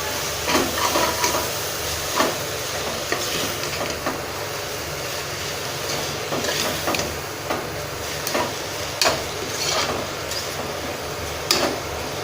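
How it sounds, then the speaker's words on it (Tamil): Fenugreek greens sizzle and hiss as they are stirred and sautéed in a pan for keerai biryani, with a steady frying crackle and periodic scraping strokes of the spoon throughout. "கீரையை போட்டு இப்போ நல்லா வணக்கி விடுங்க."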